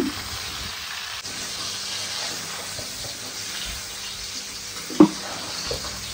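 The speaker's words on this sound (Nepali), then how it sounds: "लो फ्लेममा एकदमै मजाले चलाउँदै पकाउँदै गर्ने एकछिन" A jujube (bayar) pickle is stirred in a pan over a low flame, giving a soft, steady sizzle and hiss with one brief knock near the end. No one speaks.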